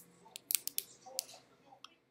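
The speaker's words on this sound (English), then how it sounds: "When in doubt, use scissors." Scissors snip at small snack packaging, giving a handful of sharp, close clicks and crunches in irregular bursts over a quiet room background.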